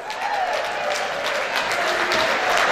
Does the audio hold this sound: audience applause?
yes